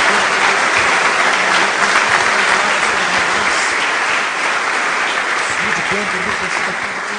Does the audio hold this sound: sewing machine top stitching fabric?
no